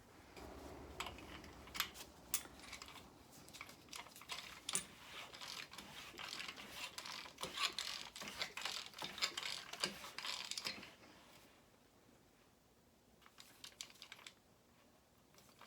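A ratchet clicks in a steady run of pawl ticks as a Buick 4.8 engine is turned over by hand during assembly, a close, fairly quiet workshop sound that stops near the end with a few scattered clicks after.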